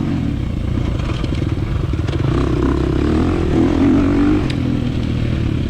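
A 2023 KTM 350 XC-F dirt bike racing in an old-school hare scramble, its engine droning loudly and continuously up close with rattles and shifting revs, no talk heard.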